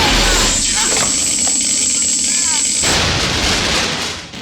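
A berserk robot blows up in a 1980s B-movie horror film, a loud sustained blast and rumble with crackling debris, a high whine that cuts off abruptly near the end.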